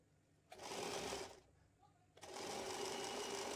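A sewing machine stitches a boat-neck saree blouse in two close, steady whirring bursts separated by a brief pause, with someone speaking faintly in between.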